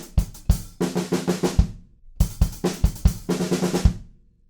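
A drum kit plays the fill leading into the pre-chorus of a song, two quick bursts of kick, snare and tom hits with crashing cymbal wash, loud and close, then fading out.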